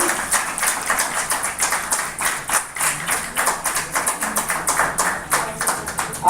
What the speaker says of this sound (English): A huge round of applause for Mona Madam.